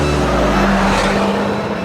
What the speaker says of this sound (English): we are drifting right now at 94 miles an hour